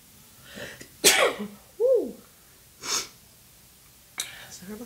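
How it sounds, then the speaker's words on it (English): A single sharp sneeze bursts out, followed by a short vocal exclamation and a couple of breathy sounds, close to the mic. "Gotta sneeze, y'all."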